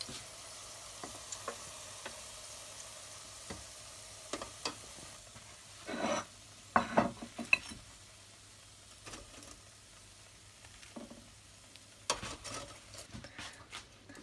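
Potato chips frying in a pan for a vegetable burger snack, heard as a faint, low sizzle with sporadic clinks and scrapes of stirring, a few louder scraping bursts midway and near the end, no talking.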